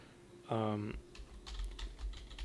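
Code being typed on a computer keyboard during a game development session, a quick run of faint, soft key clicks following a short voiced sound near the start.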